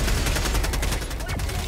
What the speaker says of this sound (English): They shoot lasers. They shoot at us.